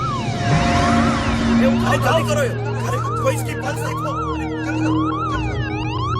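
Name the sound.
ambulance siren approaching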